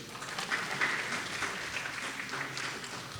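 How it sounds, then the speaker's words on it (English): At an academic geography conference, an audience applauds during a memento presentation, giving a soft, even round of clapping heard from a distance in a large hall. "Can we all give a round of applause, please?"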